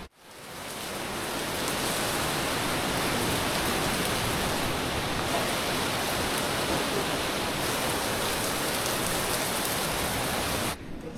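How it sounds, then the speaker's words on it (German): Heavy rain pours steadily in the Karwendel mountains of Tirol during a bikepacking trip, a dense, loud, unbroken hiss that holds for about ten seconds before cutting off abruptly. "Das Schlimmste ist jetzt, glaube ich, mal vorbei vom Regen"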